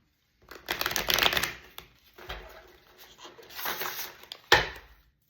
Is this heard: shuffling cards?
yes